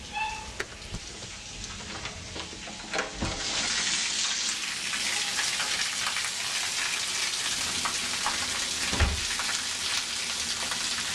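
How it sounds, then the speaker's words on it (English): Heavy rain pours down in Texas, a dense, close hiss of drops on surfaces that swells after a few seconds and then holds steady and loud, with a couple of brief knocks and no talking. "It's raining real hard. I can feel the rain"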